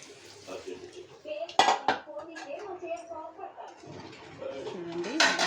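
A spoon scrapes and clinks against a pan while gutti vankaya curry with tamarind is stirred, in a few sharp metallic knocks and rattles, with a person talking and faint bird coos in the background.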